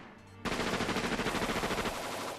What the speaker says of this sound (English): Rocket Launcher, let's go.